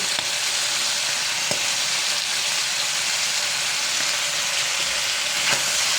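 Pork caldereta with oyster sauce simmering and frying in a pan, producing a dense, continuous hissing sizzle with a few faint stirring knocks, steady and close, with no voices.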